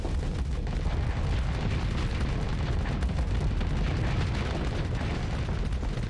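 Ship weapons blasting continuously in a Starsector space battle, a dense, loud wall of rumbling booms and rapid bursts with no letup.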